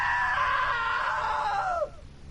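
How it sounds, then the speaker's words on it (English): A loud, sustained scream from a man who slipped into a table saw, high and strained for nearly two seconds before breaking off abruptly. "Now that was a great scream."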